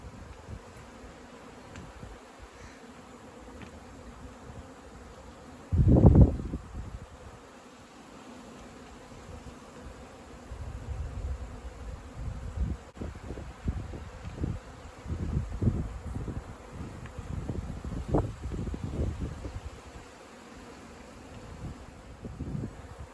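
Native honeybees buzz around a rescued hive in Mallorca, a low, steady hum close by with bursts of louder, nearer buzzing as bees fly past, and no talk.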